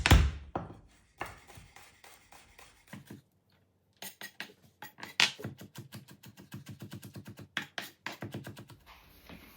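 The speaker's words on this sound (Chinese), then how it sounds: "大蒜我们也把它切碎" A knife chops garlic on a cutting board in rapid, even taps, with a short pause and then a long, steady run of close, crisp knocks.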